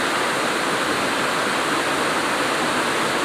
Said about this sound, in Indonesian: Ini hujannya semakin deras.